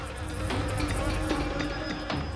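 Insects buzzing steadily around a hive inside a house, a dense continuous drone with a few brief clicks and knocks, close and fairly loud, with no speech.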